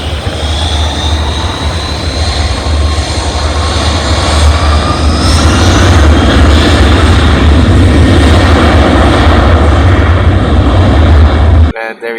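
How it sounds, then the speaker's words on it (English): Loud, sustained roar of CFM56 jet engines with a high whine sliding in pitch, close and continuous, cutting off abruptly at the end. "Those CFM 56 engines. They scream pretty freaking loud."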